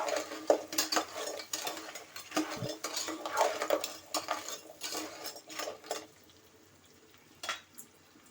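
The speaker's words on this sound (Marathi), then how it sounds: "मोठे नांगे पण घालते थोडस असं तेलामध्ये परतून घेते" Large crab claws tossed in oil in a pan for a Malvani crab curry, with loud metallic clinks and scraping of a utensil against the pan that fade to near quiet toward the end.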